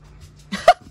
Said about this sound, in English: That was yes, a dog.